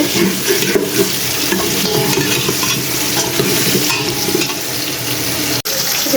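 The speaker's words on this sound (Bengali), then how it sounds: "এদিক দিয়ে আমার ভাজি হচ্ছে আলু ভাজি" Potatoes sizzle and crackle steadily in a hot pan, with scraping stirring sounds throughout and no talking.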